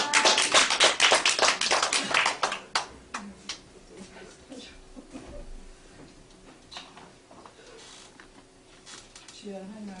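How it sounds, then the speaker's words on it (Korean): A church congregation gives a burst of applause to welcome someone speaker, dense and loud at first, then thinning into scattered claps before the room quiets under a speaking voice. "박수로 환영해 주시겠습니다"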